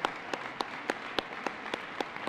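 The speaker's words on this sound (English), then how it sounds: "applause." Faint applause at an outdoor opening ceremony for the U.S. Department of Energy Solar Decathlon 2013, heard as a soft wash of clapping with a few sharper, regularly spaced claps standing out nearby.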